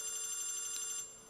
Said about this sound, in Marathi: फोन आला, फोन आला.